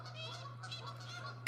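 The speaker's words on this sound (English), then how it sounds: "There go the geese." Geese honk outdoors at night near a greenhouse, a faint, distant cluster of overlapping calls over a steady low electrical hum.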